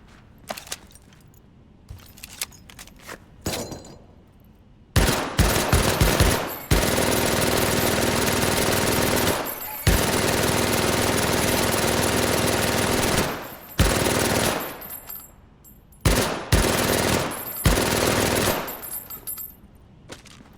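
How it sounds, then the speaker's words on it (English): M1918 A2 automatic rifle in the Medal of Honor: Above and Beyond VR video game, firing in long sustained automatic bursts and short stuttering ones separated by brief pauses, loud and close with no talking. "The M1918 A2 automatic rifle."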